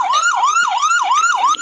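An ambulance siren wails loudly and close by in a fast, rhythmic rising and falling cycle, repeating about every third of a second and filling the whole moment.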